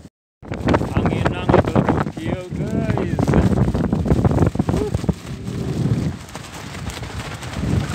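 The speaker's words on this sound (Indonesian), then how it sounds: "Anginnya terlalu kencang." Strong wind buffets the microphone while fishing near floating fish-farm net cages on open water, a loud continuous rumble with gusts throughout, and a voice talks briefly over it.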